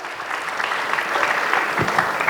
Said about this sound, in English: Can we have a round of applause for Vignesh, sir?